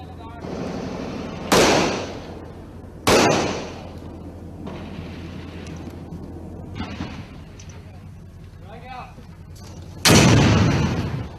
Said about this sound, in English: Explosions and then some gunshots.